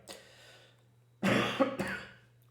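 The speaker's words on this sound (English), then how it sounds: "Still coughing and spluttering around." A person coughs close to the microphone: a faint first cough, then two harsh, loud coughing bursts in quick succession, with no talking.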